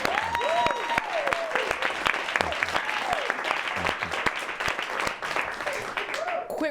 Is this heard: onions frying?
no